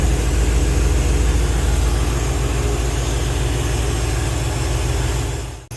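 A GM marine engine on a Silverton 34C idles steadily at about 800 rpm, a loud, continuous low rumble with an even, unchanging throb that cuts off abruptly at the very end.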